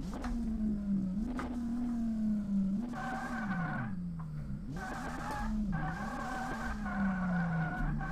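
A Mazda RX-8 drifts in DRIFT21 with a steady engine tone rising and falling and repeated tire squeals. The sound holds close and continuous throughout, with no talk over it.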